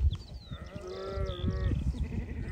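Sheep and lambs in a flock bleat in overlapping calls, several voices rising and falling over low rustling and shuffling, fairly faint and outdoors with no one speaking.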